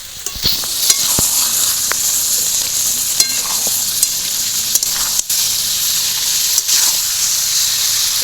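Desi chicken sautés in a pan, giving a steady, close sizzle and hiss throughout, broken by sharp clicks and scrapes of a spoon stirring against the metal.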